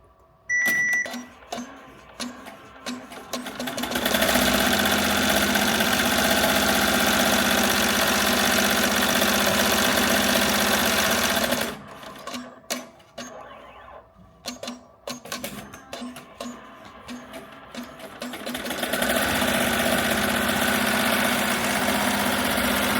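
Embroidery machine stitching a Harry Potter banner, a loud steady mechanical drone with a rapid needle clatter that runs for long stretches, briefly stops and changes pace, then starts again, with no one talking.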